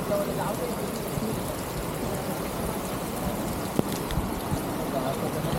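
Floodwater rushes over the Sapgav river bridge in a steady, dense roar that holds its level throughout, close and loud, with no clear voices above it.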